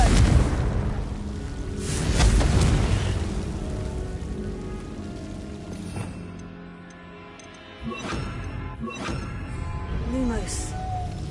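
Fiery Confringo spell explosion in Hogwarts Legacy, a loud rumbling blast that swells and slowly fades into crackling debris and ambient game sounds, with a later thud and whooshing effects.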